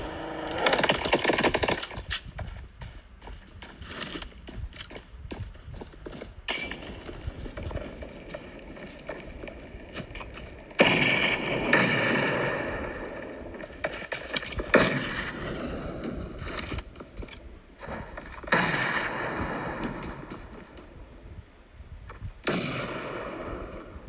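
Grenade blasts and gunfire ring out in an online shooter qualifier match, with bursts of shots and booming explosions coming in repeated loud waves over a constant noisy game backdrop.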